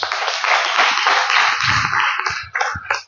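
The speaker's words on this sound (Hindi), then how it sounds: "मुझे लगा आप ताली बजाओगे।" A church congregation claps together in a dense, steady burst of many hands that carries on for a few seconds before breaking into scattered claps as it fades out.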